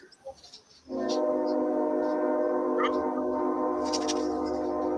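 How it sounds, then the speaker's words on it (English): A passing train sounds a long, loud, sustained horn that begins abruptly after a second of quiet chatter and holds steady to the end, with faint voices briefly underneath. "There's a train."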